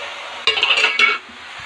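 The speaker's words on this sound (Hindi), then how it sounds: "अब इसमें डालेंगे उबले हुए मैक्रोनी" Boiled macaroni tipped into a pan of sautéed ingredients, giving a short burst of clattering and scraping against the pan with a light sizzle, close and fairly loud, with no talking.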